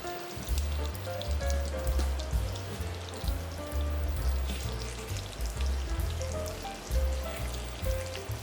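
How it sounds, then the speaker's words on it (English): Filet mignon sears in a hot pan, a loud continuous crackling sizzle with popping spatter and no voices. "Allow it to sear"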